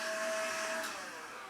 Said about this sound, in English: I vacuum it up.